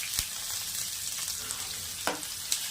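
Onions fry toward brown in a pan with cloves and cinnamon for a mushroom curry, giving a steady close sizzle punctuated by a few sharp spatula taps and scrapes, with no voices.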